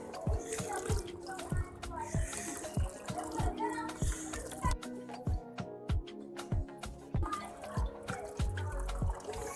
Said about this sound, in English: Then water from the pump is pushed up to the tap.